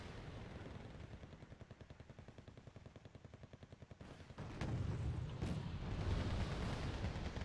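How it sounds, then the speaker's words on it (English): M1A1 Abrams tanks in the Wargame: Red Dragon strategy game open fire in a fast rhythmic burst of repeated shots. The fire gives way to a louder, denser rumble of battle noise. "M1A1 engaging these Chomoho 4s"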